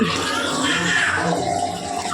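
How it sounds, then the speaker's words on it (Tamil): Water pours steadily into a glass in a kitchen, a close, continuous splashing rush lasting about two seconds with no break. "இந்த ஒரு கிளாஸுக்கு நிறைய ஃபுல்லாக தண்ணி ஊற்றிடலாம்."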